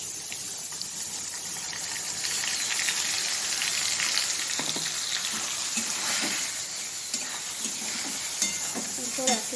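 Spice paste for hilsa fish curry sizzles and hisses in hot oil in a pan, with soft stirring scrapes and a few clinks throughout, close and steady.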